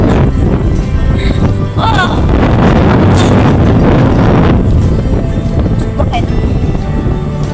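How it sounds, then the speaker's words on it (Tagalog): Strong wind roars and buffets steadily throughout on the summit of Mt. Lab, loud and close, with faint voices occasionally audible beneath the gusts. "Grabe, lakas ng hangin."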